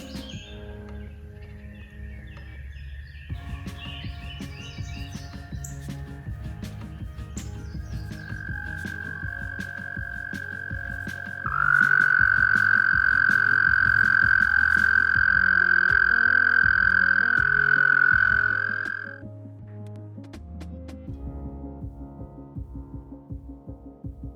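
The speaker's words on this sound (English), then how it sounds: "we've got a very active toad population here" Toads trill in a long, steady, high drone outdoors during spring, joined partway through by a louder, closer trill that holds for several seconds before fading, with faint bird chirps around.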